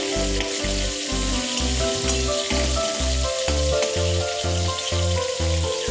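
Cauliflower florets frying in hot oil in a home kitchen give a steady sizzle with a rhythmic low thumping underneath, close and fairly loud throughout.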